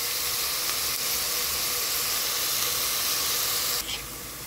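Onions sizzling steadily in a hot pan while cooking a mattar paneer dish, a dense continuous hiss throughout that drops off slightly near the end, no voices.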